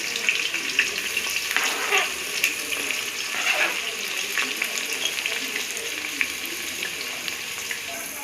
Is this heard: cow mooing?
no